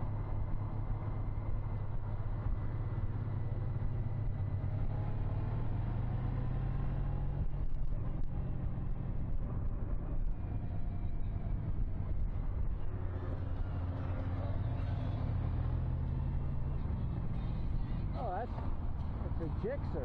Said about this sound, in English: And tremendous traffic too.